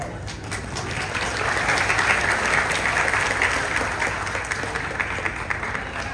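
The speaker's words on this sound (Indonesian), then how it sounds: "Tepuk tangan dulu." An indoor audience applauds together, a dense burst of clapping that swells in the first second and holds steady, close and loud, with no voices over it.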